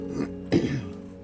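A man who is a little under the weather gives a short throat clear followed by a single sharper cough, close to the microphone, then quiet.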